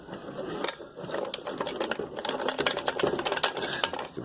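A loose fuel filter rattles inside the tank of an old Featherlite weedeater with broken fuel lines, giving a close, continuous clatter of small knocks and scrapes as the tool is handled.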